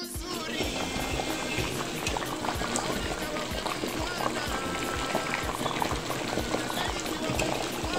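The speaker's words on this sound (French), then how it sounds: "Allez, je vais laisser mijoter et on verra la suite." Beef and pe-tsai stew in coconut milk with garlic, onion, ginger and parsley, simmering in a pot with a steady, close bubbling and gurgling that holds throughout.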